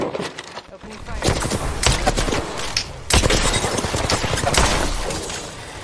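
Rapid gunfire from the video game Apex Legends crackles in dense bursts, with sharp shots and impacts layered over game effects and occasional voice callouts throughout.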